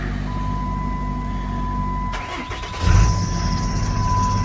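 A 2009 Ram 5500 4x4 plow and salt truck with a Cummins diesel cranks, fires with a loud rumble and settles into a steady idle close by, over a thin electronic whine.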